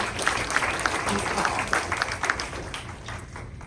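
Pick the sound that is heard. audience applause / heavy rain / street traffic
audience applause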